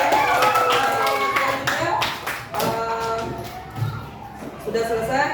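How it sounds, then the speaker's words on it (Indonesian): A classroom of students claps together, a burst of brisk, overlapping applause that tapers off as a teacher's voice speaks over and after it. "Boleh tepuk tangan dulu."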